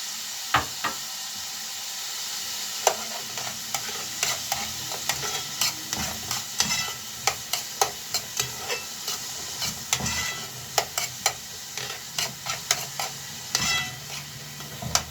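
Chicken frying in a pan sizzles steadily while a spoon stirs and scrapes it, with repeated sharp knocks against the pan in an irregular rhythm, close and moderately quiet.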